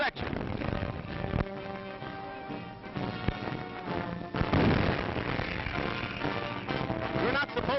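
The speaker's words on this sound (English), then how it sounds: "You're not supposed to jump that way when the big guns go off." Army artillery firing at Fort Story in a 1937 film, several heavy booms and sharp blasts at irregular intervals amid a busy, noisy background, with people talking at moments.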